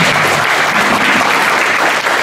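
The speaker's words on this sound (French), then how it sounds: "Donc je pense qu'on peut l'applaudir bien fort." Dense, steady applause from an audience at an evening ceremony honouring champions with murals, loud and continuous throughout without a break.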